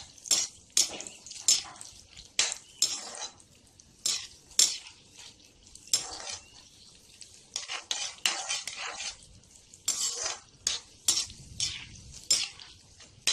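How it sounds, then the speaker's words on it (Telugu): A spoon stirs cashews and raisins frying in a pan for sweet pongal, giving repeated sharp metallic scrapes and clinks in a steady rhythm over a light sizzle, close and alone. "ఇవి కొంచెం వేగాక అప్పుడు ఎండు ద్రాక్ష కూడా వేసుకొని కలుపుతూ బాగా వేయించుకోవాలి."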